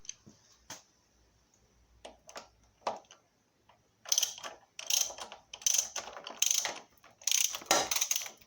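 Socket wrench ratcheting close up on the front fork bolts of a BSA C15 motorcycle, with a few scattered clicks and taps first and then several quick bursts of metallic ratcheting in a workshop.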